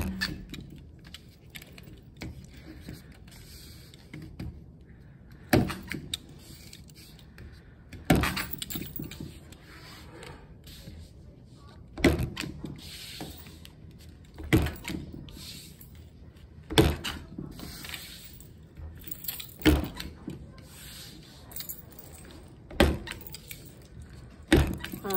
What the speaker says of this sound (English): I pretty much stapled all the way around.